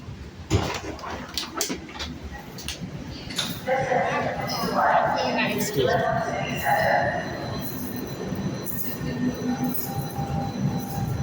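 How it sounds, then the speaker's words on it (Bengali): A train pulls to a stop as passengers get off on the way to a World Cup stadium, with rumbling wheels, squealing brakes and clanks mixed with crowd chatter and voices nearby. "এইখান থেকে গাড়ির থেকে ট্রেন থেকে নামতেছি"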